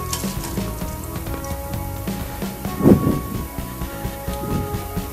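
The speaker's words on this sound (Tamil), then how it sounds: "இது கூட நம்ம கடுகு உளுந்து மிளகு 4-5 மிளகு சேர்த்துக்கோங்க." Mustard seeds, urad dal and a few peppercorns sizzle in hot sesame oil, a steady close crackle with a brief louder burst of popping midway.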